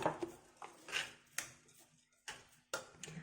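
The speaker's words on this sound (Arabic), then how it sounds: "طبعا هقلب اهو" A spoon stirring rice pudding in a pot, giving a series of faint, irregular metallic scrapes and taps, close and quiet, with short pauses between strokes.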